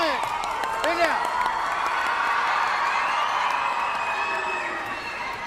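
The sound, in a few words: crowd cheering at a Sepaktakraw match in Patna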